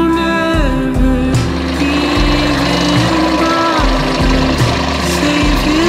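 A loud, steady tractor engine drones and chugs with a low rhythmic throb, running close by with no pauses.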